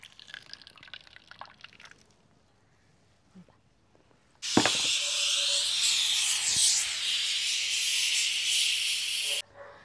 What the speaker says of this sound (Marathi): बघा आपल्या कुकरच्या शिट्ट्या झालेल्या आहे।